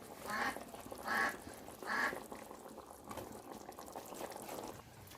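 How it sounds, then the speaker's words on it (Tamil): A pot of spicy dried fish curry (karuvadu kuzhambu) bubbles on the stove in three distinct gurgling bursts, then settles into a softer, steady simmer. "நல்லா கொதிச்சிருச்சு."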